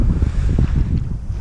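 Wind on a small Twister sailing yacht at sea, a steady close rushing and buffeting with low rumble and a hint of water wash, brief and loud.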